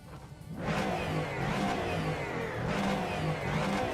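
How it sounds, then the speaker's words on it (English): Engine of a Ford Mustang in the Project Motor Racing video game, a steady loud mid-pitched drone that swells in after half a second and holds with slight revving fluctuations, no talking. "This is not what a Mustang sounds like."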